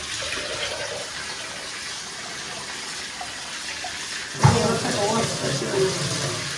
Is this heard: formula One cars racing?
no